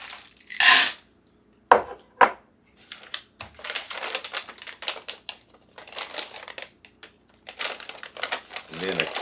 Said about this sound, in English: I'm going to put a cup of chocolate chips, dark chocolate chips.